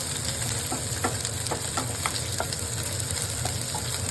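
Onion frying in oil with black cumin in a pan until browned, a constant close sizzle broken by light taps and scrapes of a stirring spoon, with no voices.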